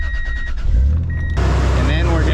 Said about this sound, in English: We're just gonna start the car up first